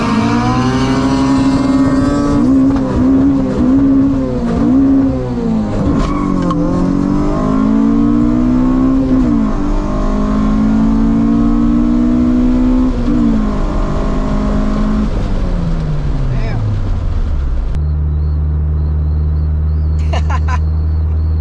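Honda EK hatch on a race pulls hard through the gears, the engine note climbing and dropping with each shift, loud and close, before settling into a steady idle-like drone near the end.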